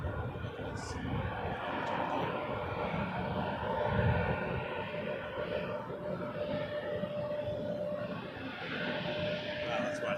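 A Turkish Airlines airliner at Toronto Pearson Airport gives off a steady, broad engine roar that holds for the whole stretch, at a distance, with faint voices in the background.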